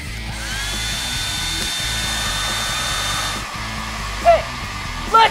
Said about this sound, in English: I got the hair dryers.